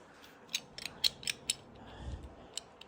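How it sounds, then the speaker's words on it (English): Metal Allen wrench clicking and ratcheting as it is fitted onto a bolt on a 2015 KTM 500 EXC motorcycle, a handful of crisp, close metallic ticks spaced unevenly over a quiet background. "Let's just check with a big old Allen wrench."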